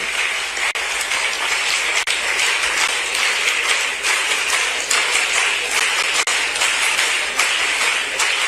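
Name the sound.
audience applause welcoming the Chief Minister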